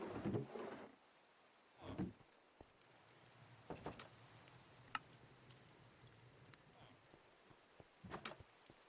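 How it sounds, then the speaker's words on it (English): Light rain in the Harmonious Engineering 1.18 modded game patters steadily in the background, broken by a few short thuddy bursts and faint clicks. "Dude, it's raining. Get your ass inside."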